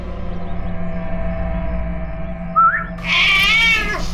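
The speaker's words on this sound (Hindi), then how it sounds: "ये है वो बिल्ली जो खूनी को पहचानती है।" A cat in a crime drama gives a short meow, then a longer, wavering, plaintive meow. Both are close and loud over a steady low background hum.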